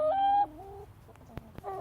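A pet backyard hen clucks close by in a short, loud, warbling call that drops into softer murmuring notes, followed by a few faint clicks and another brief cluck.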